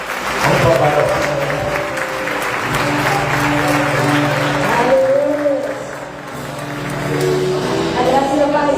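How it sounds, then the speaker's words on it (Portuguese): A church congregation applauds during an afternoon worship service, the clapping steady and full beneath a loud voice and held musical tones that run throughout. "Dá um forte aplauso ao Senhor"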